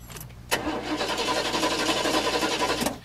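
A car with a dead battery cranks without catching in the early hours, a steady whirring starter grind that begins abruptly and runs for over two seconds before cutting off, heard close and loud.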